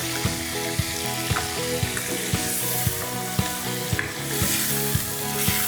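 Food frying and sizzling on medium flame with black pepper, cumin, yogurt, coriander, salt and green chili paste, a loud continuous sizzle with repeated scraping stirs at a steady rhythm.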